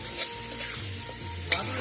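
A pan of frying pork curry hisses steadily while a spoon scrapes through it in a few distinct stirring strokes, heard up close.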